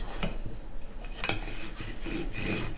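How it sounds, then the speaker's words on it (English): A rolling pin works floured puff pastry on a counter, giving a soft continuous rubbing rumble with a few light knocks and scrapes, close and quiet. "So I'm going to sprinkle a little bit of flour and start rolling"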